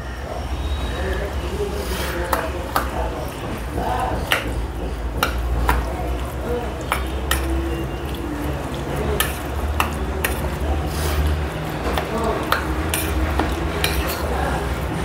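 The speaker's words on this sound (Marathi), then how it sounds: "आता ह्याच्यात आपण सगळे घटक पदार्थ मिक्स करूया." Grated pumpkin, crushed peanuts, sugar, salt and curd are stirred together in a bowl for raita. A spoon clinks and scrapes against the bowl in a steady rhythm over a low background hum.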